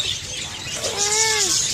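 Birds at Racine Zoo give a short, close-up chirping call with rising and falling tones over a noisy background of outdoor chatter and movement.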